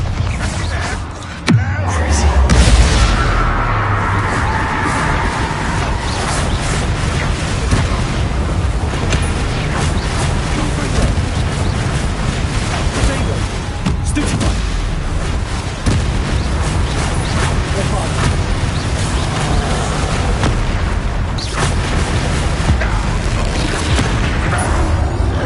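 A heavy Bombarda spell explosion in a Harry Potter video game, a loud deep boom followed by rumbling debris and a sustained roar, with voices over the blast.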